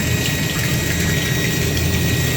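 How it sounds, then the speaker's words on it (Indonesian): A Shimizu water pump runs steadily, a loud continuous motor hum with rushing water, close by and unbroken, set up for an automatic disinfectant spray system at a broiler chicken coop. "water pump merek Shimizu maksudnya."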